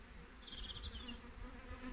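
Honey bees humming steadily at an opened hive as an inspection wraps up, a soft continuous buzz with one nearer bee passing briefly, no voices.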